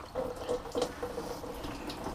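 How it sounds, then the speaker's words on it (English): Coolant drips and trickles from a leaking radiator on a 1951 Willys Wagon during a cooling-system flush, a few close, quiet splashes and drips in quick succession. "okay, we've got a radiator leak"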